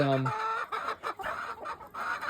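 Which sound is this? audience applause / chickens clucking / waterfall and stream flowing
chickens clucking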